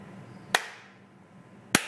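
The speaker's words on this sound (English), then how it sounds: "so we do a sharp clap" Two sharp hand claps sound close by, about a second apart, to trigger a clap switch wired to a mains light bulb; each is a crisp single crack over faint room hum.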